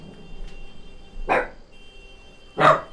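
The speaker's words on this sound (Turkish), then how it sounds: "Benim köpeğim havladı" A pet dog barks twice in a quiet room, short sharp woofs a second apart with a faint yip before them, fairly close and alone.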